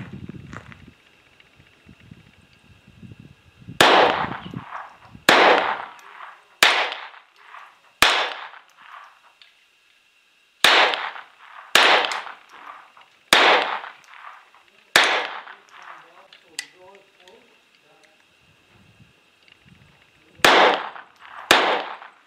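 A GSG Firefly .22 pistol fires ten sharp, loud shots at uneven intervals of roughly one to three seconds, each crack followed by a short ringing decay, with a brief pause midway.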